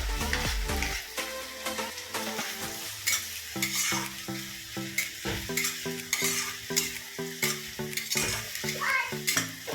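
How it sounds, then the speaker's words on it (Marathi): Onion and capsicum frying in oil in a kadai for pav bhaji, a steady close sizzle with repeated stirring scrapes and light clinks of utensil on metal, no voices. "कांदा शिमला मिरची सगळं टाकूया आपण तेलामध्ये फ्राय होण्यासाठी"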